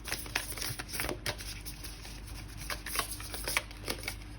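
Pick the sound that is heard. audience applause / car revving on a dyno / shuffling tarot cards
shuffling tarot cards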